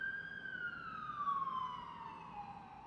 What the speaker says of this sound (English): This ambulance. Let's let it pass.